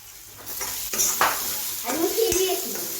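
Pumpkin stem and leaves fry in a pan with a steady close sizzle, broken by a few scraping stirs and light clinks of a utensil against the pan.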